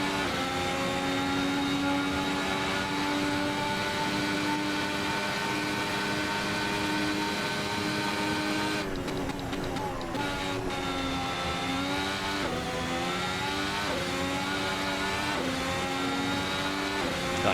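A 2017 Ferrari Formula 1 car engine screams at high revs in Assetto Corsa, holding a loud, steady whine with quick gear-change dips and climbing pitch as it accelerates through the lap.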